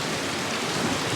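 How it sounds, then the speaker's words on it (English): Hurricane Ian's wind and rain lashing North Sarasota, Florida, during a Category 3–4 storm: a steady, dense roar of broadband noise, loud and unbroken, with no voices. "The wind is picking up."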